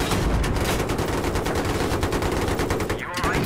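Rapid video game gunfire in a 64-player battle, continuous loud shooting throughout with a voice faintly underneath.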